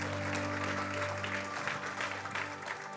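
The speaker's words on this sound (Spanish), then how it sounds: "Denle un aplauso a Cristo, porque Él es bueno" Church congregation clapping for Christ during a service, a steady wash of applause over a sustained organ-like hum.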